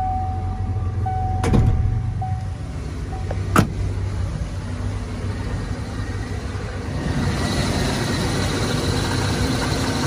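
A 1989 Ford F-250 XLT Lariat's 7.5 liter 460 V8 idles smoothly and steadily up close, with a couple of brief clicks early on and a broadening hiss toward the end.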